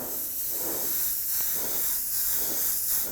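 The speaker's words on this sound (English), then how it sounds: "going to spray just some air on there" Compressed air is sprayed onto a wet painted surface in repeated soft hissing bursts, about four or five even pulses, close and steady with no talking.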